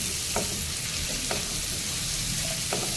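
Onions, green chili and tomato sizzle steadily in a hot pan for a cheese angoori gravy, with a continuous frying hiss and a few soft scrapes of stirring.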